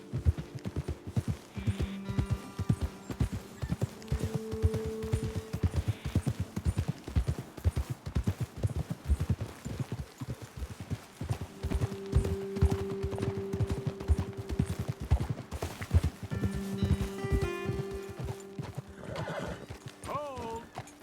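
Horses clip-clop along at a steady walking-to-trotting pace in Red Dead Redemption 2, hooves close and continuous throughout, with a whinny or two and background game music.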